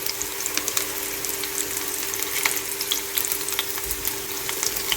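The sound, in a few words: shallow frying potato snack in pan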